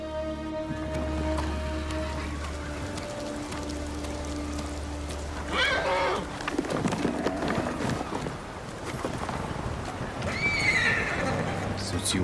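Kage, a horse in Ghost of Tsushima on Iki Island, snorts and whinnies twice over plodding hooves, with rain pattering steadily beneath and a low musical drone early on.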